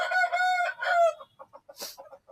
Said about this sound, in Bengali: এগুলো সব হচ্ছে ফাইটিং মুরগির খামার